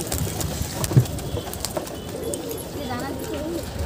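Pigeons coo softly in the background of a pigeon-flying session as someone talks over them, the calls low and intermittent under the voice and ambient noise.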